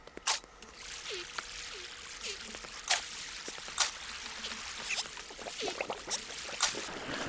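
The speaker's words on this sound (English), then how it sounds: "now we just need to put water in each corner" Water placed from a bucket in a Minecraft world gives a few short splashy pours and trickles, spread through the stretch alongside sharp clicks, fairly close and moderately loud, with no talking.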